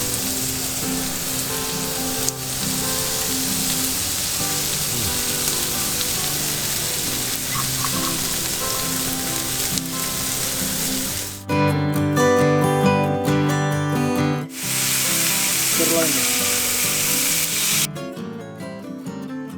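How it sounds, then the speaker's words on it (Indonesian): Steak grilling with a steady, loud, rain-like sizzle and crackle that continues throughout with brief shifts in tone, and no voices. "Gue suka suara daging kepanggang"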